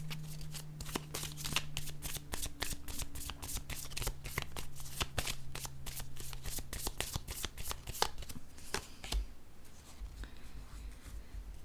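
A deck of playing cards is shuffled and handled up close, a long run of rapid crisp riffling flicks and snaps with a faint low hum behind, moderately quiet and with no talking.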